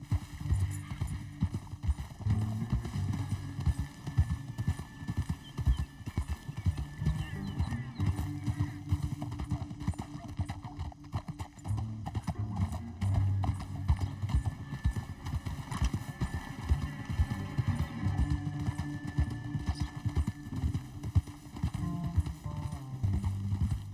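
Horse hooves clip-clop steadily through Red Dead Redemption 2 gameplay, with occasional whinnies and neighs, under continuous game dialogue and talk.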